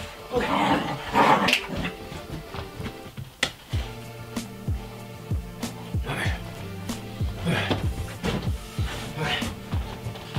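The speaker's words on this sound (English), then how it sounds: "Look at this dog." A small dog growls playfully in low, rumbling bursts with occasional yips, close to the microphone, while a person talks over it.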